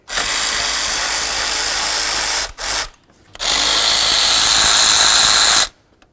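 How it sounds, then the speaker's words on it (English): On a Chevy S-10 engine, a power tool spins off bracket nuts in two long, loud whirring bursts separated by a short pause and a brief blip, close and with no talking. "Now the next thing I'm going to do is remove the nuts for this bracket right here."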